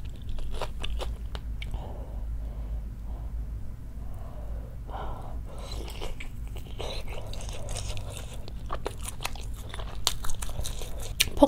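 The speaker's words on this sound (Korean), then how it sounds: "폭살도 이렇게 바로 해서 먹을 때는 국물에 적셔서 먹으면 맛있긴 하더라고요" Someone eats spicy Korean chicken stew with beef tripe close to the mic, with wet chewing, crunchy bites, soft slurps and breaths coming in irregular bursts and no talking.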